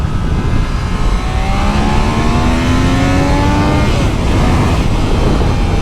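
A Triumph Daytona 660 motorcycle accelerates hard in second gear on the road. The engine note rises steadily through the revs and is heavily masked by loud, constant wind rush.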